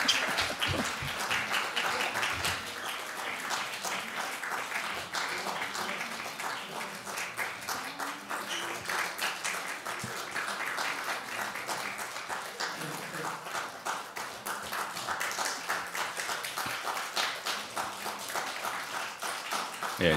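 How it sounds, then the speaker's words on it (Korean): Continuous clapping from a church congregation fills a family worship service while Sunday school children slowly walk forward, a thinner, fluttering crowd applause that carries on at moderate volume with voices faintly mixed in. "나올 때까지 박수를 쳐주세요"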